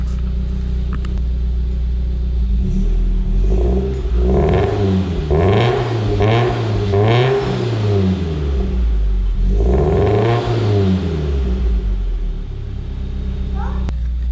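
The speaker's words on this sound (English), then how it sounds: "I'm sure you guys want to hear some revs. It has a very good tone." A car engine with an aftermarket exhaust idles with a deep rumble, then revs up and down several times in swelling, throaty bursts.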